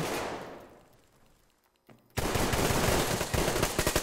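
Benelli shotgun fire in the online shooter Survarium: a loud burst of dense, rattling gunfire erupts after a quiet lull and continues with sharp repeated reports to the end.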